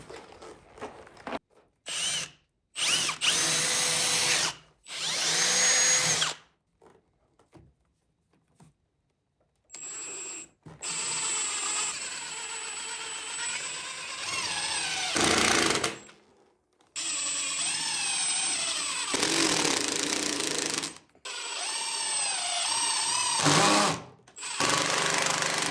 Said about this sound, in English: I'm going to drill a hole and then start my screw in the hole